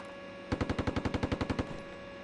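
Burst of roughly a dozen evenly spaced machine gun rounds from an M1A2 tank in the Steel Beasts Pro simulator, loud and close, firing at trucks, with quiet ambient hum before and after.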